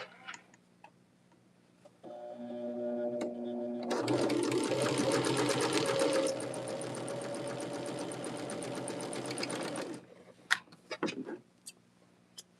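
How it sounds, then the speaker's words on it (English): A sewing machine stitches in one sustained, even run while chain-piecing a quilt block, preceded by a brief hum and followed by a few sharp clicks and snips. "I'm sewing one and cutting off the chain"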